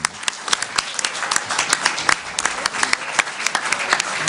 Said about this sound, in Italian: Allora adesso un applauso invece a un personaggio più che storico